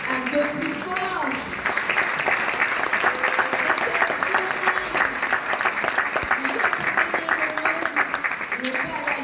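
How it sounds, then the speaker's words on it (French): Sustained applause rises from an audience at a Cameroonian chiefdom parade, honouring a woman; thick, even clapping runs the whole length while some background voices murmur beneath it. "je crois que ça mérite des applaudissements pour elle"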